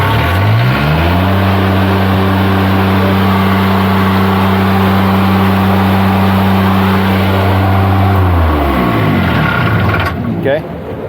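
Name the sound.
Kubota engine on Niftylift HR17 running at high revs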